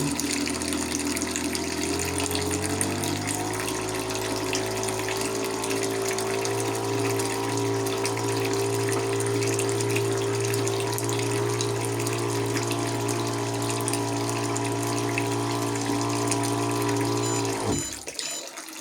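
An electric liquid dosing pump runs steadily, pouring water at about three litres per minute with a constant motor hum and rushing flow that holds for roughly seventeen seconds, then cuts off abruptly.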